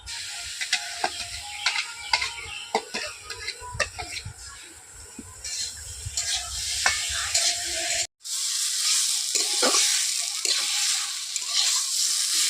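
Spice paste with chilli powder sizzles steadily in a hot pan while a spoon scrapes and stirs in irregular strokes, with a brief break partway through.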